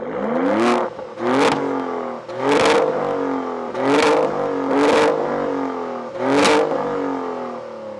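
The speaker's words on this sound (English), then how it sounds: "now with a new and more powerful engine comes a new and more powerful exhaust" A 2026 Maserati Grecale Modena V6 is revved through its exhaust in five or six sharp blips, each rising quickly to a loud bark and falling back to idle, with short pauses between them, close and with no talk.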